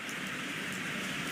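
Steady rain falling, a dense even hiss of drops pattering on surfaces, close and unbroken for the moment without any voices.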